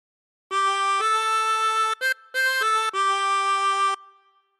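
A 24-hole tremolo harmonica plays a short phrase of Amazing Grace with sustained, wavering notes and one quick break in the middle, then fades out; no voices.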